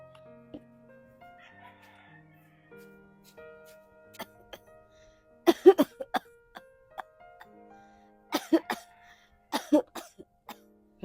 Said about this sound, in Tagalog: Mukhang umuubo si Mama.